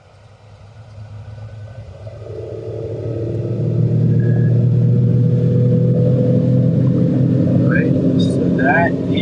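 A Mitsubishi dump truck climbs a hill in high gear, its engine rumble building from moderate to a loud, steady drone as it strains upward, with brief squeaks near the end.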